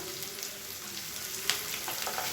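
Cut broad beans sauté with onion and garlic in oil, a soft continuous frying hiss with a faint stir and scrape near the middle, quiet and close, with no speech.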